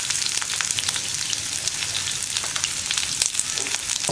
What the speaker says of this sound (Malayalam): ഇനി നമുക്ക് ഉള്ളി ആഡ് ചെയ്യാം.